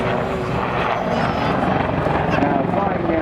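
An Army Air Corps Lynx helicopter performs a flying display at the Bournemouth Air Festival, its rotor chop and turbine noise loud and steady throughout, with a commentator's voice running over it.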